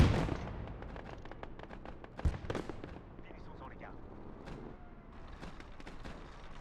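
Sharp, booming infantry gun shots and crackling gunfire from a World War II strategy game battle, fired at irregular intervals over a busy, noisy background.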